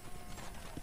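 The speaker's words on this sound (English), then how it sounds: "Control that horse, will ya?" Horse hooves in Red Dead Redemption on PS3, a quick run of clip-clop footfalls at a moderate trot, fairly soft and brief.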